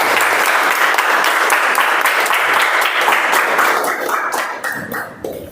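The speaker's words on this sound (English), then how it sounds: "Can we have a round of applause?" An audience at a poetry club meeting gives the winner a sustained round of applause, dense steady clapping that fades toward the end.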